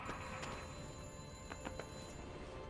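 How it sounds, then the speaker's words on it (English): A telephone rings with faint repeating bell-like bursts in the video game Sniper Elite V2, quiet and distant under a steady background hum, with no voices. "Phone, it's ringing."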